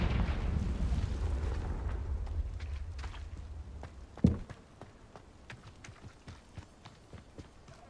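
A Confringo blasting spell from a Harry Potter scene goes off as a sudden sharp blast around the midpoint, cutting through a dense rumbling din that then gives way to scattered lighter knocks and crackles.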